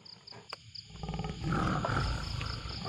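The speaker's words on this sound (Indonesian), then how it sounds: "Aku mendengar suara kayak geraman" A tiger growling low and rumbling, rising into a sustained throaty growl after a quieter start, with a high insect-like chirping in the background.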